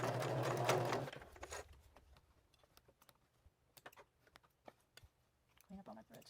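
A sewing machine runs in a loud continuous burst for about a second, back stitching across narrow lace-trimmed collage fabric, then falls to quiet clicks and handling taps with a brief renewed whir near the end.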